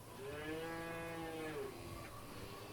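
A cow gives one long, drawn-out moo, fairly close, rising and then sliding down, with a faint second lowing call trailing after it.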